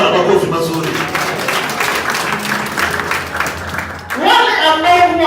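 A church congregation at a mission gathering applauds for the Lord, dense sustained clapping filling the room throughout, with a voice speaking over it toward the end.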